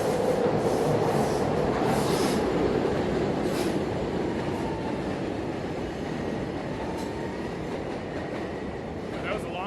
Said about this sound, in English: let me stop because I hear another train